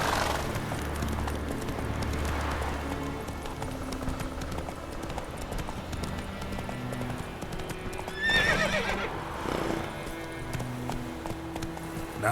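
Roach the horse in The Witcher 3 clip-clops along at a steady pace, then gives a sharp whinny near the end, with hoofbeats continuing under the game's ambient sounds.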